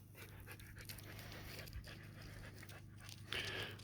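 A dog pants quickly and steadily outdoors in a desert valley among cactus and juniper, a soft close rhythmic breathing set against faint background hum.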